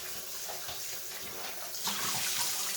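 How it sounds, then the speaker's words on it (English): Tap water gushes steadily into a cooking pot for corned beef and cabbage, a close, continuous splashing rush that grows slightly louder near the end. "So, we're going to put us some fresh water in here."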